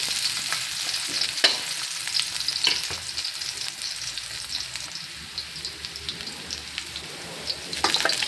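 Whole, lightly pressed garlic cloves frying in hot oil in a pan for pork patatim, a continuous close crackling sizzle with scattered pops and occasional stirring scrapes.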